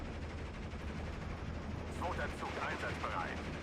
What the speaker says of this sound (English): MG34 trying to help out